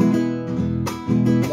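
Guitar strums ring out in a slow, even rhythm, a few full chords with clear attacks and sustained tones, close and alone.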